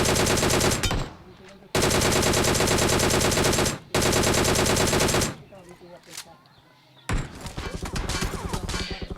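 Long, loud bursts of automatic gunfire in the BGMI battle-royale video game crackle close by, broken by short pauses, then a quieter stretch with someone speaking before shots pick up again.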